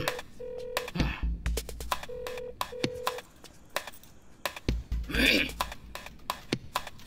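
A phone placing a video call gives a repeating electronic dialing tone in short, evenly spaced steady beeps, heard in the middle of a film scene with background music and stray noises around it.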